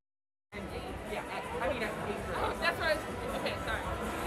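Crowd at an election night event waiting for a governor to take the stage, a steady indoor hubbub of many overlapping voices with occasional louder nearby speech, starting after a brief silence.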